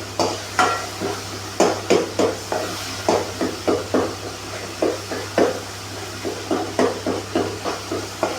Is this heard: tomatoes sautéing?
yes